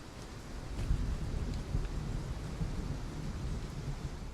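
Steady rain pours in the Vigor video game while low thunder rumbles and rolls underneath, a continuous soft wash with no talking.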